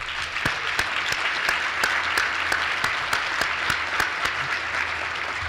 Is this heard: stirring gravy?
no